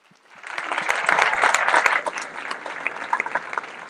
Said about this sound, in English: If you can please give them a round of applause.